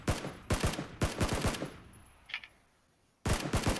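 Video game gunfire in sharp bursts of rapid shots, three quick volleys, then a pause with a faint click before another burst erupts near and loud, with no talking.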